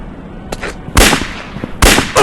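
Gunshots in a Wild West cowboy shooting video game: several loud, sharp cracks in irregular bursts with short echoing tails, the last shots coming close together, and no talking.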